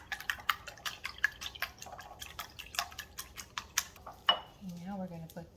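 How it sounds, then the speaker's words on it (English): A whisk clinks rapidly against a bowl while mixing a taco casserole layer, a close, quick run of light metallic taps, ending with a brief voice. "Now we're going to whisk that a little bit."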